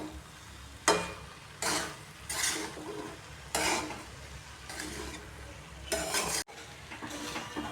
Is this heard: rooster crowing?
no